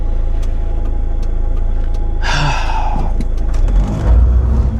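A flood-damaged Mitsubishi Eclipse revs hard as its tires spin, a loud engine roar with a broadband burst of tire noise midway, rising again toward the end, with no talking.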